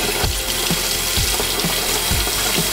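A tie-dyed beach towel is rinsed under a running tap to wash out excess dye, a steady loud rush of water with soft periodic thumps and splashes.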